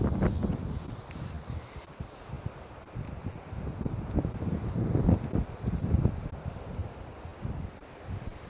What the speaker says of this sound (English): Sorry if there's wind